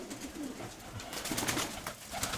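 A pigeon on its nest inside an upper loft gives low, throaty coos that rise and fall over a dense, close-up rustle of other birds.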